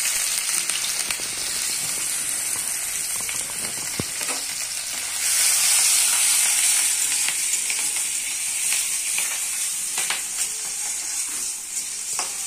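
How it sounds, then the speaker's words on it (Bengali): Chopped garlic, ginger and green chilli frying in hot oil, a steady close sizzle with crackling that swells louder midway through and then settles, with no voices. "এবারে গরম তেলে দিয়ে দিচ্ছি রসুন কুচি, তারপর দিয়ে দেব আদা কুচি, তারপর কাঁচা লঙ্কা কুচি।"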